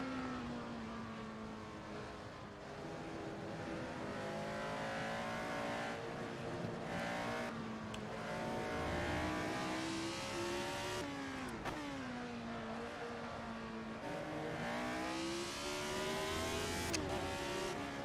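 Race car engines drone and rev steadily in a racing video game, with a Ferrari among the cars, the pitch rising and falling through gear changes at a fairly low level for the whole stretch.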